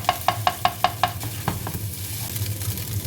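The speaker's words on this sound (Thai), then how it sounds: "ผัดเห็ดพึ่งหวานใส่ แหนมใส่ไข่นะคะ" Mushrooms, fermented pork sausage and egg stir-fried in a pan, a quick run of about six rhythmic spatula scrapes and taps over a steady sizzle, then softer stirring as the frying continues.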